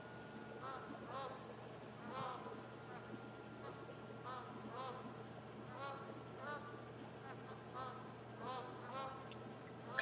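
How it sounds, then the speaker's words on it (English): Geese honking in the hunting game The Hunter Classic, repeated faint calls in irregular bursts from a distance over a low ambient hum. "Those geese out there."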